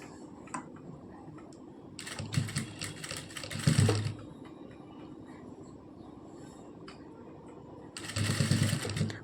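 A sewing machine stitches a leaf-shaped neckline design, with two rapid rattling runs of stitching separated by a quiet pause.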